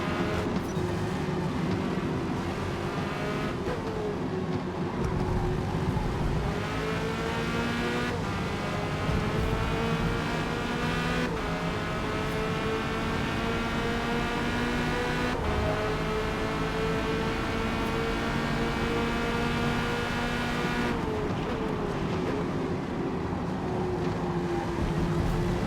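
A Corvette C8.R race car engine in a racing video game at Silverstone GP drones loudly and without a break. Its pitch climbs under throttle, drops at each gear change, then climbs again, with no voices over it.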